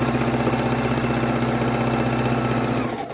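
A sewing machine stitches fabric scraps together for scrappy quilt blocks, a loud, close, steady mechanical whir that runs continuously and then stops at the end.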